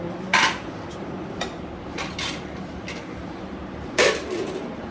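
Pots and dishes being cleared and washed in a home kitchen, with scattered clinks and knocks of metal utensils over a steady background hiss, one louder clatter near the start and another near the end.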